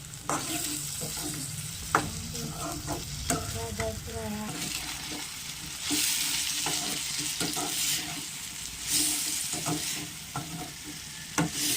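Chopped tomato stirred into cluster beans frying in a pan, a constant close sizzle with scraping stirs and occasional spoon taps, no voices.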